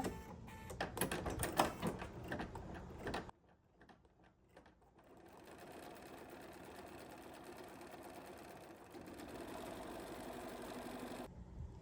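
A sewing machine stitches a quilt block, with a fast, loud burst of needle chatter for about three seconds before it stops, followed by a quieter steady motor hum.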